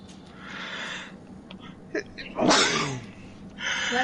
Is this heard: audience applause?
no